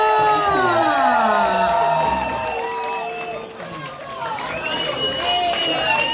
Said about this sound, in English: And a cheer for transgender!